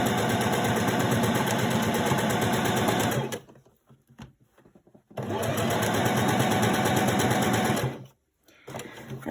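A sewing machine stitches down the pleated side of a fabric face mask in two long, loud, steady runs of whirring, separated by a short pause of faint rustling.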